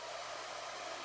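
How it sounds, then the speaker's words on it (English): A handheld blow dryer runs steadily during a foam-sticker canvas art project, a continuous close whooshing hiss with no speech over it. "Use my blow dryer again."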